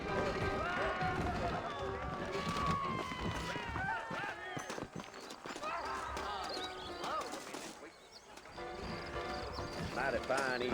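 Horses trot in the video game Red Dead Redemption, their steady clip-clop hoofbeats running throughout beneath continuous character dialogue and game sounds.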